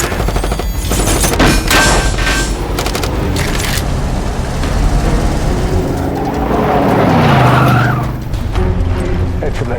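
An action-film car chase, with a car roaring and tires skidding amid bursts of gunfire, loud and continuous, with someone speaking over the noise.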